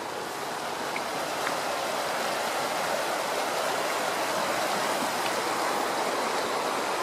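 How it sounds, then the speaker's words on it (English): Steady broadband rush of the River Ogmore flowing near its meeting with the Llynfair, a continuous close water roar with no talk over it. "Now here we have the two rivers where they meet,"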